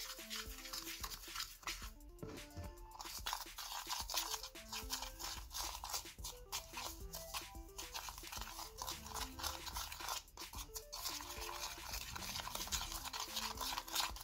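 Thick Pantene shampoo and powdered sugar being stirred into a slime, a steady close-up sticky, crunchy mixing sound that continues throughout with no talking.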